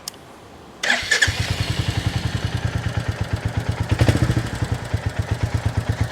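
A new Royal Enfield Bullet 350 motorcycle starts up and settles into a steady, thumping single-cylinder idle, recorded near the exhaust. The rapid, even pulses run loud and close after a quiet start.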